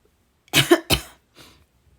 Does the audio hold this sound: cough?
yes